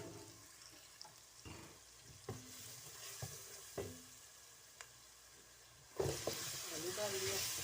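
Spices and potatoes frying and being stirred in a pan for aloo palak, a quiet sizzle broken by several sharp scrapes and clinks of a spoon, growing louder near the end.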